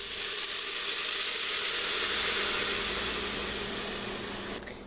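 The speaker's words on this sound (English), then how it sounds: "while we're letting this simmer and boil and reduce just a little bit" Liquid bubbling steadily on a stovetop as beef cooking juices simmer and reduce after pressure cooking, a continuous hissing, sizzling wash that stays loud and close before dropping away at the very end.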